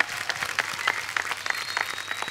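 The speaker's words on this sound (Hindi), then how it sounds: "इनके लिए जोरदार तालियां" Loud, dense applause from a studio audience on a Hindi TV comedy talk show, sustained and close throughout without pause.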